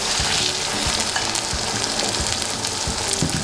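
Tomato goes into frying meat in a pot for akhni pulao, setting off a loud, close, continuous sizzle with occasional stirring scrapes and no talk.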